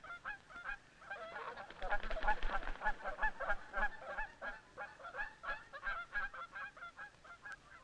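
A flock of Canada geese honks repeatedly as the birds take flight, rhythmic calls overlapping close by, building in the middle and continuing in pulses.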